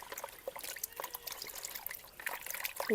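Water trickles and splashes softly while hilsa fish is rinsed in a kitchen, a faint uneven dribbling with small wet bursts and drips throughout.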